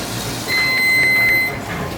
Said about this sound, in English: That means the flow sensor are open after 2 beeps.